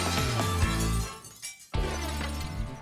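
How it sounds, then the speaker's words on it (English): Glass pieces hurled at tornado speeds shatter loudly, with a bright crash and tinkling breakage, a brief pause near the middle, then a second burst of shattering glass. "They're going to start by throwing glass at tornado speeds."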